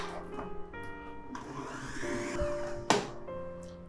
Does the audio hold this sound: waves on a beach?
no